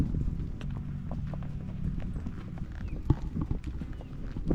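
Horse hooves clip-clopping on a beach ride at Bahia Concepcion in Baja, an uneven run of close, distinct knocks under a low rumble of movement.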